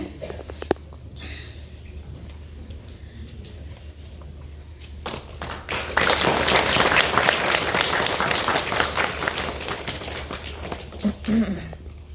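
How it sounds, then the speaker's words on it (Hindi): Applause from an audience welcoming a guest at a spiritual gathering's final day of classes, starting around the middle and continuing as a dense, steady clatter of many hands to the end. "हम उनका एक हाथ की ताली से स्वागत करते हैं।"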